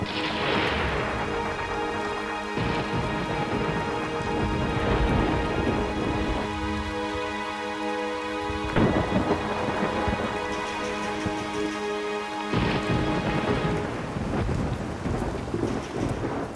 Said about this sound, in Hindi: इतनी बारिश?